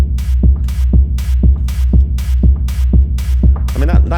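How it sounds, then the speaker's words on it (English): A programmed beat in SynthVR mixes a deep kick with a rumble bass and a bright hi-hat, in steady, loud, evenly spaced hits about twice per second. "And then this is kind of a hi-hat."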